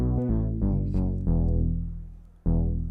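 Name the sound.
layered synth bass patch from iZotope Iris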